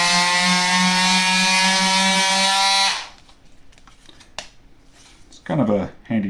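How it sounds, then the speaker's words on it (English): A Milwaukee M12 cordless jigsaw runs loud and close for about three seconds with a steady buzzing whine, then stops; afterward a few handling clicks and a short burst of talking follow. "we of course have a jigsaw, not a sander"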